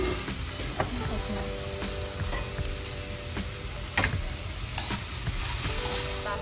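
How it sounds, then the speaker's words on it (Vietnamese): Tofu and seasoning being stir-fried in a pan, with continuous sizzling and scraping stir strokes and occasional sharper clinks of the utensil against the pan. "mình xào cho chín rồi mình để ra đậu hũ vô một trộn"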